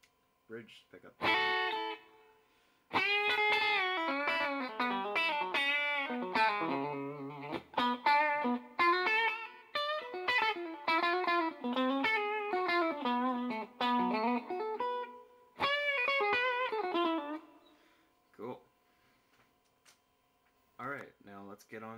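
Clean electric guitar phrases on the bridge pickup ring through a Velvet Umble overdrive pedal, with brighter melodic lines in runs broken by short gaps and a few sparse notes near the end.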